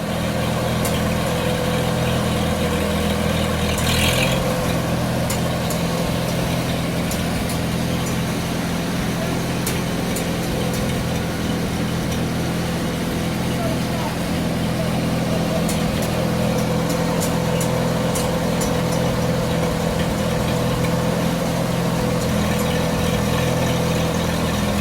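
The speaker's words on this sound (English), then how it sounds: "Setting up the belt to run the cane grinder." An engine runs steadily to drive a belt-powered sugar cane grinder outdoors, a continuous mid-to-low droning hum with faint clanks and knocks on top, holding an even level throughout.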